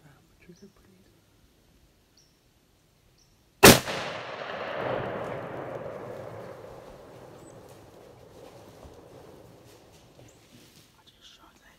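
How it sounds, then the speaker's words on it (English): A single sharp gunshot cracks out of near silence during a deer hunt in Lewis County, West Virginia, followed by a long rumbling echo that slowly fades away. "Gunshot?"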